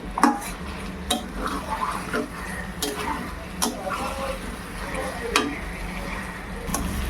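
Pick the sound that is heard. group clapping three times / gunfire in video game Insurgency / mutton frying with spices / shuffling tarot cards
mutton frying with spices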